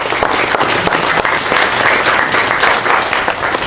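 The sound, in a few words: audience applause at a panel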